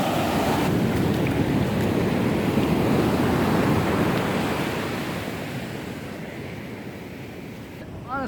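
Ocean waves wash onto a beach in a loud, continuous surf roar mixed with wind buffeting the microphone, slowly easing in the last few seconds.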